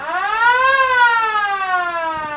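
Final siren at a country rugby league first-grade match: a single loud, sustained electronic wail that swells slightly in pitch and then slowly falls, with no talk over it.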